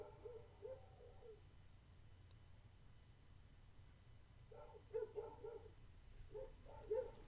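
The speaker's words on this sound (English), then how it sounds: "dogs barking in the distance as I'm recording this." A dog barking far off in the distance, a few faint muffled bursts early and then a louder cluster of barks near the end, heard over a quiet indoor hum.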